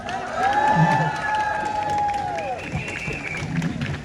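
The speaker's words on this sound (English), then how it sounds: "Give a big cheer for Jann, everyone." A crowd at a Palestine solidarity protest in Hyde Park, Sydney cheers and applauds steadily for several seconds, with whoops and high voices rising above a broad wash of clapping.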